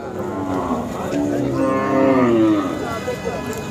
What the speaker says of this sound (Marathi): बैल आहे हा